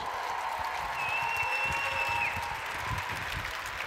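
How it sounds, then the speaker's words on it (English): A convention crowd at a Hobbs & Shaw panel with Jason Statham and Idris Elba applauds, a broad, steady wash of clapping with some crowd noise and a faint whistle, sustained throughout. "Big round of applause, Jason and Idris."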